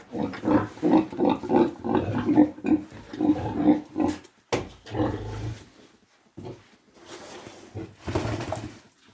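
A 300 kg, year-and-a-half-old sow grunts in a rapid series of low, close snorts, followed by a few scattered snuffles and shuffling noises.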